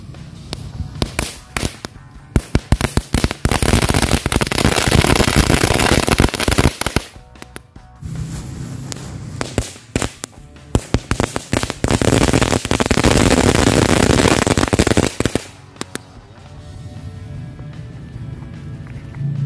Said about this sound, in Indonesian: Kita pakai 2 mercon cabenya.